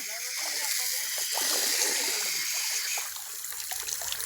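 Water gushes steadily from a broken tap, a continuous splashing trickle that stays close and fairly loud, briefly softening toward the end while faint voices mix underneath.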